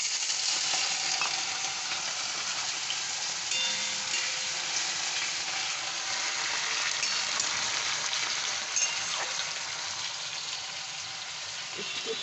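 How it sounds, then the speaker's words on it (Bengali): Potatoes frying in hot oil in a wok with tempering spices give a steady, close, dense sizzle and crackle that continues unbroken throughout, with occasional stirring scrapes and no voices. "এখন আমি আলুটা দিয়ে ভেজে নেব।"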